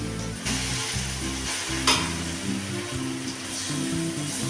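Ground masala sizzling in a pan as it is stirred into a traditional raw banana stir fry, loud continuous frying hiss with scraping stirring strokes, close up and without voices.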